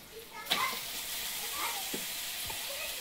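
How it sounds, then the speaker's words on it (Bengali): Chicken hitting hot spiced oil in a pan, a sudden loud sizzle that settles into a steady hiss with stirring scrapes, a voice faintly present at the start. "মশলা থেকে তেল ছেড়েছে, এবার চিকেনটা দিয়ে দেবো।"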